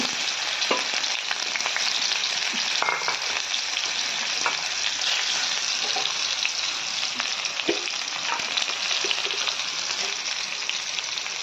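Onions fry in a pan with a loud, continuous crackling sizzle, while occasional soft clicks of stirring rise out of the steady hiss.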